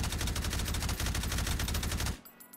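Futuristic gun fired in the VR game Hot Dogs, Horseshoes & Hand Grenades, a rapid dense automatic burst lasting about two seconds, then cutting off abruptly.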